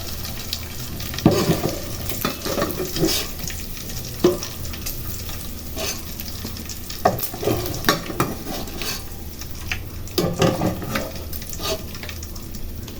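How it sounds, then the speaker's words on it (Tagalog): Garlic, onion and tomato sautéing in a hot pan, a steady close sizzle with a spatula scraping and clinking against the metal in irregular strokes throughout, no voices. "At igigisa na natin ang bawang, sibuyas at kamatis."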